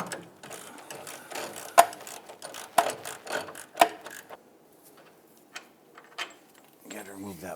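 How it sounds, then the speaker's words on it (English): A swivel head ratchet works a 19mm bolt on the front lower control arm of a 2000-2006 Toyota Tundra, giving sharp metallic clicks at a slow, uneven pace over low workshop hiss. "19mm with a swivel head ratchet."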